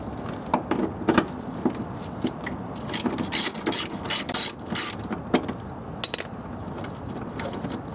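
A ratchet undoing a 10mm nut on a plastic shroud in the engine bay of a Nissan Maxima, giving bursts of rapid close clicking from the pawl with short pauses between strokes.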